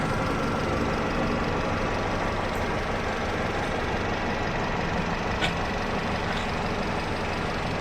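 A Nissan X-Trail engine idles in a steady, even rumble with a faint mechanical clatter, continuous and close, with no voices.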